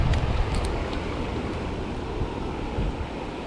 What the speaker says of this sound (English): The wind's picked up again, and there's just some light ripples across the water.